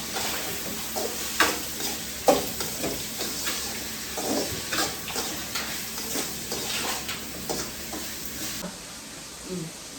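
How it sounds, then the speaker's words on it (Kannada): Onions sizzle and fry in a pan while being stirred, a continuous hissing crackle with small scraping bumps from the spoon, close and steady, no voices. "ಈರುಳ್ಳಿ ಚೆನ್ನಾಗಿ ಫ್ರೈ ಆಗಬೇಕು"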